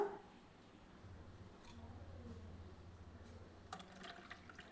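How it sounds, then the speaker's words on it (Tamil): Tamarind water pours steadily into a pot of fish curry, a soft continuous trickle with faint clinks near the end. "இப்போ புளி தண்ணி சேர்க்கலாம்"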